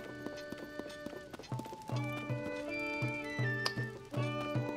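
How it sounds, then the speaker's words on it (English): In the video game Tears of the Kingdom, horses run with rhythmic clip-clop hoofbeats over a bright melodic game soundtrack, the hoof pattern repeating steadily and clearly in the foreground. "Oh, all the horses."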